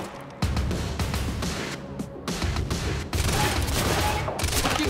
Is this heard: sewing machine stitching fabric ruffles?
no